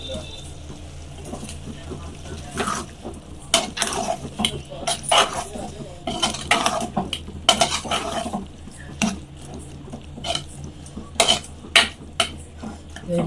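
Curry is stirred in a pot with a utensil, with irregular scraping and clinking strikes up close over a low steady hum, while people talk and a dog can be heard nearby.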